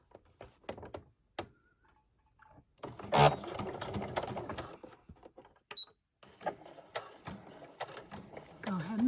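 A sewing machine stitching in an invisible zipper runs in short bursts of rhythmic mechanical clatter, stopping and starting, with a person talking between and over the stitching.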